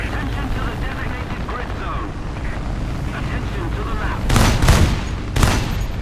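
Gunfire in the War Thunder video game, with an ASU-85 tank destroyer and a Yak-9UT fighter, rattles in rough bursts over a constant loud roar of engine and wind, peaking twice near the end.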